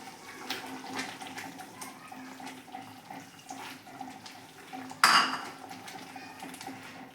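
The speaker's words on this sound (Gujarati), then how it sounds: "આપણે અહીંયા મસાલા જોડે પાણી સરસ રીતે ઉકળી ગયું છે હવે આપણે આમાં ગાંઠિયા એડ કરી દઈશું" Gathiya drop into boiling spiced water in a pot for Kathiyawadi kaju gathiya shaak, making one sharp splash and clatter partway through, with quieter kitchen clinks and bubbling before and after.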